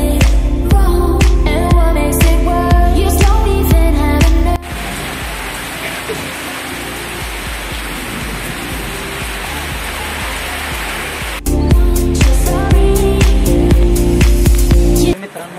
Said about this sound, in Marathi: मित्रांनो पाऊस रप्पाडा येऊन गेला आता